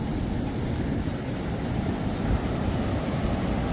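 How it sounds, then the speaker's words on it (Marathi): Big sea wave rolling onto a beach at Malvan on the Konkan coast, a steady loud broadband wash of surf with wind buffeting the microphone throughout. "आता मोठी लाट येत"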